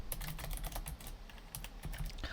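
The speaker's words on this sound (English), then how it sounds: "So now I'm typing in a starting message." Rapid, continuous typing on a computer keyboard, with steady close-up clicking keystrokes throughout and no talking.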